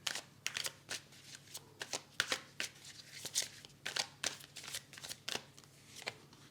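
Tarot cards are shuffled and drawn in a close, quiet room, making a run of crisp flicks, riffles and soft slaps in irregular bursts, with little else in the background.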